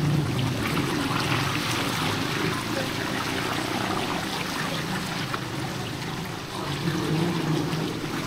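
Flood water left by high tide after a typhoon churns and swishes steadily, a continuous loud wash of water that is close and carries on without a break.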